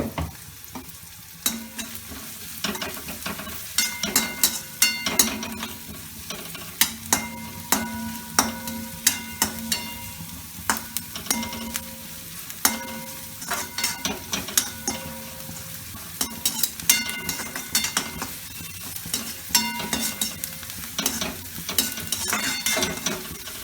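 Salted onions sizzle steadily in a pan while a utensil stirs and scrapes them in repeated clanking strokes, close and continuous for a long stretch, with no talking.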